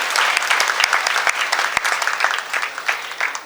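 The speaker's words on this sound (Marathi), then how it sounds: "आपण जोरदार टाळ्या वाजवून त्यांचे मनपूर्वक आभार मानूया" Warm burst of audience applause at a Yoga for Kids book launch in Pune, many hands clapping steadily and close for a few seconds with no speech over it.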